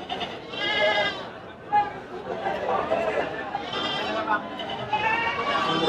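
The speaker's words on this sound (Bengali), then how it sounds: "চমৎকার বিগ সাইজের একটা খাসি দেখতে পাচ্ছেন" Goats bleat repeatedly amid a busy crowd at the Hazratpur goat market, their wavering cries rising over steady chatter and talk nearby.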